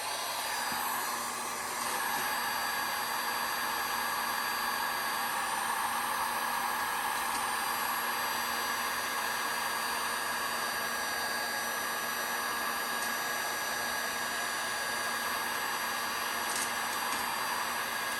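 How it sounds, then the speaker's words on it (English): Heat gun blowing hot air to shrink heat shrink tubing over the throttle cable housing of a Honda CT70, a steady whooshing hiss with a faint whine that runs continuously and close by, no talk. "I'm just going to take a heat gun."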